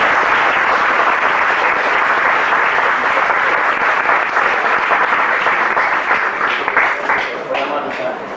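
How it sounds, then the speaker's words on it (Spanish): Loud, dense audience applause fills a lecture hall after a talk on tourism and ecosystems, many hands clapping steadily throughout before thinning slightly at the end, with no speech over it. "les quiero pedir un aplauso. Marco."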